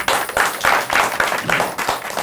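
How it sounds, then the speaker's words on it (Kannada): A studio audience on a Kannada television game show claps in a burst of sharp, dense clapping that swells in waves over a couple of seconds, loud and close with no talk over it. "ಚಪ್ಪಾಳೆ ಹೊಡಿ"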